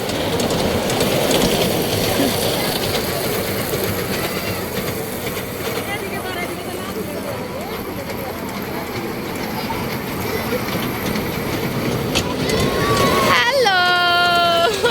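A children's ride train at the Cumilla trade fair rumbles amid loud crowd chatter and a crying child, ending with a bright tonal whistle-like horn near the close.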